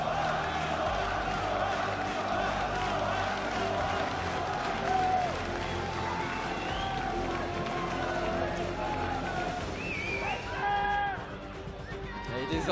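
A passionate French crowd fills a League of Legends Worlds 2015 arena during player stage introductions, its cheering and clapping running as a continuous roar beneath an amplified announcer's voice and music, swelling briefly near the end.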